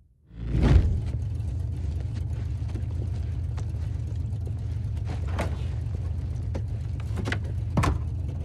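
A 2017 Koenigsegg Regera supercar engine in a video game, starting with a quick surge and then settling into a steady low rumbling drone with faint clicks and a couple of brief rises.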